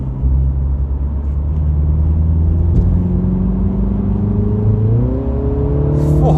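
A Mini John Cooper Works GP3 engine fires up and runs loud and close, a steady rumbling idle whose pitch climbs as the revs rise toward the end, with no talking.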